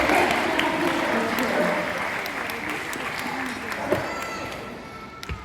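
Audience applause at a California sea lion show at Knowsley Safari, a steady broad wash of clapping from a crowd that thins gradually toward the end, with a few louder individual claps near the close.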